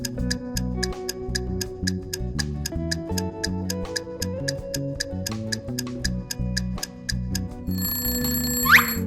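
A countdown timer in a children's addition counting game ticks in a steady, even rhythm over a looping musical bed, ending in a brief ringing chime.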